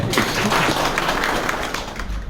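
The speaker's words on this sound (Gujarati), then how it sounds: "તાળીઓ પાડો બધા માટે" A crowd claps through a political speech at a Kavant circuit house gathering, a steady, dense wash of applause from many hands with no clear pauses.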